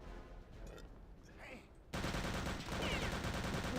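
Gunfire in the video game Return to Castle Wolfenstein, a burst of rapid, loud shots breaking in suddenly after quieter game noise and continuing as a dense barrage.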